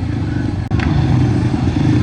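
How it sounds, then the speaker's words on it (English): A speedway solo motorcycle at a race meeting being started, its engine running loud and steady with a brief dropout and catch near the start, close and dominant with no talking. "just trying to get the bike going"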